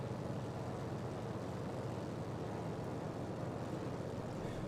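Steady, even drone of an F4F-4 Wildcat's propeller engine throttled back in Microsoft Flight Simulator, a constant broadband hum with no breaks or voices.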